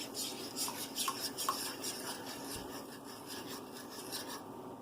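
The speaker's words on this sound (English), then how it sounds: "Give it a little stir, get everything all combined" Butter and heavy whipping cream being stirred in a pan, a soft, steady scraping and rubbing with a few light utensil taps against the metal, close and fairly quiet with no talking.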